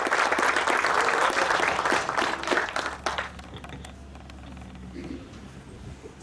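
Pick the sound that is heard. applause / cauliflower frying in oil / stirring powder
applause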